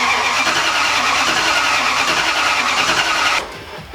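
A Nissan S13 engine cranks on a starting attempt, a loud steady churning of the starter that runs for several seconds and then cuts off abruptly without the engine catching.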